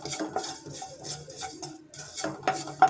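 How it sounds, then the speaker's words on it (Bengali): Black cumin and whole cumin seeds dry-roast in a pan, stirred with a utensil that gives repeated light scraping and clinking taps against the metal, close and fairly quiet with no talking. "কালো জিরাটাও টেলে নেব"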